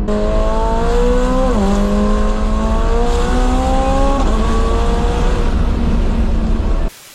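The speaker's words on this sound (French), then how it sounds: "accélérer avec cette voiture, c'est trop violent" A McLaren 720S accelerates hard, its engine note climbing loud and close through two quick gear changes and then holding a high, sustained roar before cutting off abruptly.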